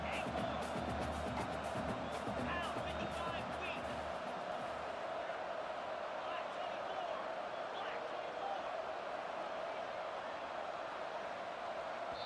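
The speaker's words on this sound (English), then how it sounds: "the crowd forces a false start" Stadium crowd roaring continuously through a college football game between Western Kentucky and Jacksonville State on a fourth-down play, a steady loud wash of cheering and whooping, with a voice talking faintly at the start.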